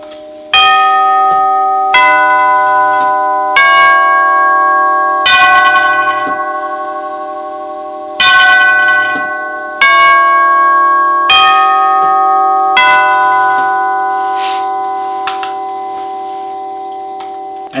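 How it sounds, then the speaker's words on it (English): A 1939 NuTone Series 2 eight-note long tube door chime rings at full volume. About eight bright metallic tube strikes, in irregular groups, each leaves a long sustained ring that overlaps the next, loud and close with no voices. "1939 Series 2 NuTone 8-note long tube door chime"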